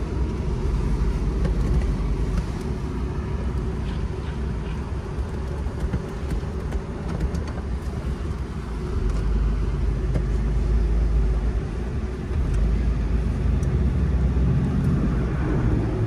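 A 1985 Buick Riviera convertible engine runs with a steady, continuous low rumble throughout, fairly loud and close, with no talking.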